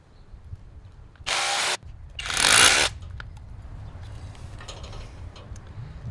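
A hammer drill bores holes into masonry to mount a security camera, with two loud, close bursts of harsh rattling drilling, the second longer, followed by faint scraping and handling noises.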